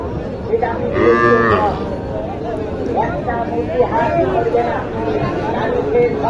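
Cattle moo loudly and repeatedly at a busy cow market, with long lowing calls rising over a steady hubbub of crowd chatter and nearby talk.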